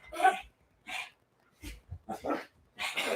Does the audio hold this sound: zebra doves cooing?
no